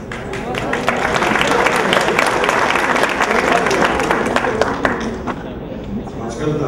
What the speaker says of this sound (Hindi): आजकल तालियां क्वेश्चन पूछने वालों के लिए भी मारी जाती